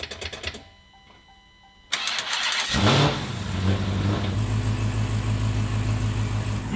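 A Dodge Demon with a manual conversion starts up, a quiet cranking lull giving way to a loud catch and a steady, rumbling idle close by.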